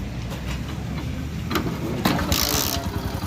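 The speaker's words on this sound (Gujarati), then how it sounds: "આપણે એન્જિન ચાલુ કરી નાખ્યું છે." A rebuilt 2012 Hero HF Deluxe motorcycle engine running in a garage workshop, a steady close mechanical idle with a few sharp clicks and a brief louder burst near the end, no talk.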